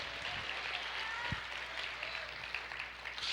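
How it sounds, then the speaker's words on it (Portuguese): Steady applause from a crowd, a continuous wash of clapping at moderate distance that carries on throughout without pause. "Essas palmas não são para mim, são para o Senhor"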